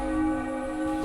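Bells on a Halloween doorstep ring out in a steady sustained chime, loud and close, with no talk over them.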